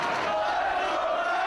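Wrestling crowd in a Manhattan arena shouting during a title match, a dense, loud roar of many voices sustained throughout.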